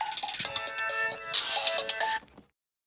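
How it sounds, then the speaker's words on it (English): A phone ringtone plays a bright, busy electronic melody with repeated tonal notes at moderate loudness, then cuts off abruptly into silence. "Sorry about the phone."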